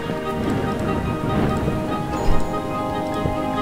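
Rain pours steadily in the plant-growing game Reach for the Sun, a dense, loud, continuous wash of drops with a brief heavier burst partway through.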